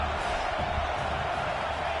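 A stadium crowd roars behind the defense in the College Football 26 video game, a steady, loud wash of cheering voices that fills the whole moment.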